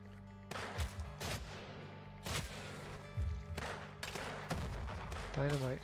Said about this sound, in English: Dynamite, throwing dynamite at me.